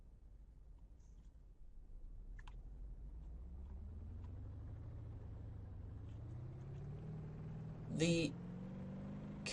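A car engine in the BeamNG Drive driving simulator drones low and steady, its pitch climbing gradually as the vehicle speeds up, beneath someone talking.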